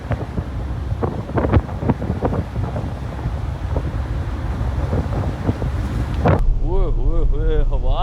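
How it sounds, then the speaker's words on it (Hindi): Strong wind buffets the microphone on a cruise ship deck sailing from Jeju Island toward Busan in stormy weather, a loud, continuous roar with gusty low rumbles, ending in a sharp gust and whistling tones. "बहुत तेज़ हवा है यहाँ पे।"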